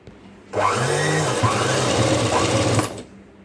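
Sewing machine stitching green lace onto fabric, running steadily for about two and a half seconds with a whirring motor and a rapid needle rhythm, close and loud, then stopping.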